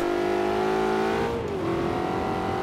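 An Aston Martin V8 Vantage V600 engine in Forza Horizon 3 holds a steady high rev, then the pitch dips slightly and settles, a continuous loud synthetic-sounding roar throughout.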